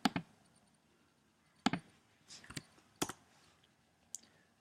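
Several sharp, quiet mouse clicks land at irregular intervals while saving a file in Photoshop, each a brief dry tick over near silence.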